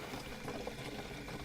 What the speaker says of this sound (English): So here I am getting water again.